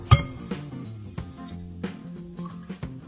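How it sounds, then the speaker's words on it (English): Eggs cracked one at a time into wells of a shakshuka pan, with a sharp clink of shell on the rim followed by a few lighter taps and soft knocks against the pan, close and quiet over a low hum. "I'm gonna crack 1 egg at a time"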